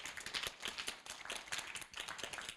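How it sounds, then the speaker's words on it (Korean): A seminar audience at a Korea University startup presentation day claps to welcome a studio CEO to the stage, with dense, steady clapping from many hands nearby and no talking. "박수로 맞이해 주시기 바랍니다."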